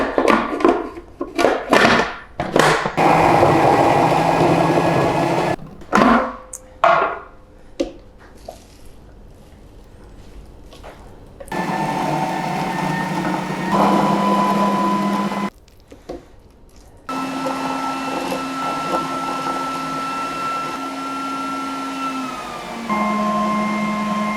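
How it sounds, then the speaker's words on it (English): A grinder works ingredients for lamb rogan josh meatballs into a paste, with a run of choppy bursts and knocks followed by a steady whirring motor that changes pitch as the blend thickens, close by. "we just need to start grinding it and making it into a paste"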